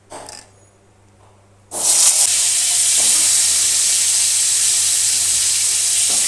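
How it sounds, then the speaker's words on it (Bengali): Potatoes drop into hot oil in a pan, setting off a sudden loud, steady sizzle that continues without letup, close up, after a short quiet stretch with a few light knocks. "আলুটা তুলে দেবো তেলে।"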